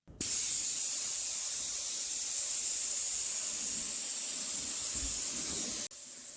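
A paint sprayer coats shiplap paneling, putting out a loud, continuous hiss that starts abruptly and runs for several seconds before cutting back to a quieter spray.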